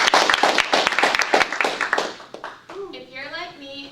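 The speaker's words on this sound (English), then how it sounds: "let's clap for Ashley" A small audience claps for Ashley before her demonstration speech on sushi, a brisk round of distinct hand claps lasting a couple of seconds, then fading as a voice begins speaking.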